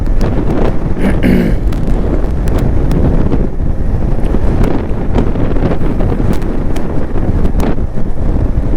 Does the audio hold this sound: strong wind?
yes